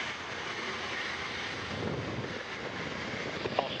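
Antares rocket lifting off from the Mid-Atlantic Regional Spaceport pad at Wallops Flight Facility, a steady broadband roar with low rumble filling the clip, distant and unbroken, with no voices.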